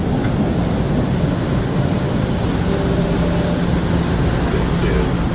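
Packed Boston MBTA subway car riding toward Oak Grove: a steady, loud low rumble and rattle of the train in motion fills the whole stretch without letup.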